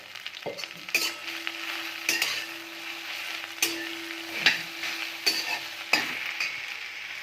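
Ambadi (sorrel leaf) greens cook in a little oil, and the soft sizzle is broken every second or so by a spoon stirring and scraping the pan. The sound is close and moderately quiet, with no talking.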